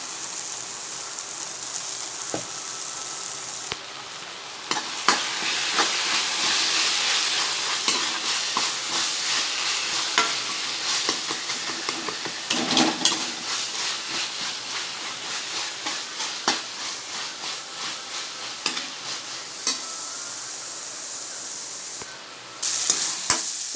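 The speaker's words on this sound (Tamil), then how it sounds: "தக்காளிலாம் நல்லா தொக்கு மாதிரி நல்லா வதங்கிடுச்சு" Tomatoes sizzling in a frying pan while being stirred, a steady hiss of frying with occasional scraping and clinking of the spoon against the pan, moderately loud and close, with no talk.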